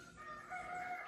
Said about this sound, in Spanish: Y por ahí ustedes van a escuchar los gallos